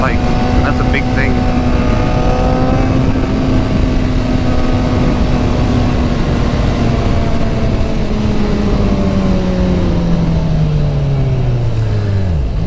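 A motorcycle rides along a winding road, its engine droning steadily with pitch sweeps as it accelerates and slows through corners, wind noise constant throughout.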